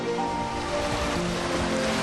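Ocean waves surge onto a beach on Yakushima island, Japan, a loud, rushing wash of surf that rolls continuously through the brief moment with no voices.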